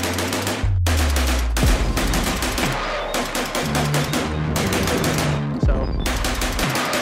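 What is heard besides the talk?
12 gauge SCAR shotgun firing rapid rounds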